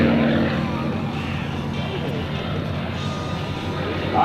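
An airplane performs rolls at a 2001 naval air station airshow, its engine giving a steady, broad droning roar from a distance, mixed with talk over the field.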